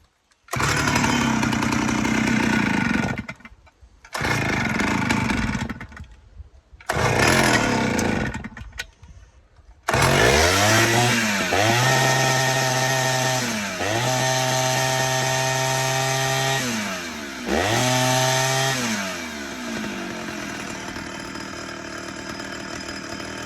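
A Stihl 051 chainsaw, refitted with a new spark plug, starts in a few loud bursts with short gaps between them. It then settles into a steady close-up run, broken by repeated rises and falls in revs.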